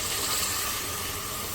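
Water pours into a cooking pot of browned meat and potatoes for an aloo gosht curry, a steady close splashing rush lasting under two seconds with no voice over it.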